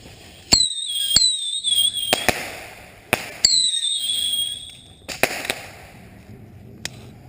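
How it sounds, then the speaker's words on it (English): A string of bottle rockets lit with a flame lighter on New Year's Eve: rising whistles and sharp pops and bangs going off one after another, loud and close. "sat up a whole bunch of bottle rockets, got the old flame lighter, and decided to set them all off?"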